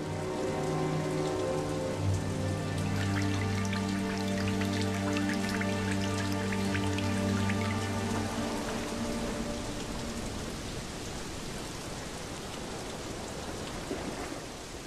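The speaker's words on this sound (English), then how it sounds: "it started to rain" Steady rain patters on a surface, a dense continuous hiss with scattered drips, joined early on by a low droning hum that fades out.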